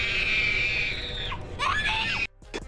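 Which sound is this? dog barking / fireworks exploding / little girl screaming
little girl screaming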